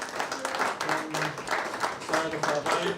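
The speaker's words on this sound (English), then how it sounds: "One more round of applause to the brother Edward," Guests at a 21st birthday celebration give a round of applause for Edward, Stuart and Regina, a steady, fairly close wash of clapping with voices cheering and talking over it.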